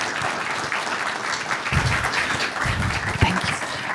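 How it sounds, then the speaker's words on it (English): An audience at a World Water Day lecture breaks into steady applause to welcome a speaker, a full, close round of clapping from a roomful of people, continuous and fairly loud with faint murmurs underneath. "Please give a round of applause to welcome Dr."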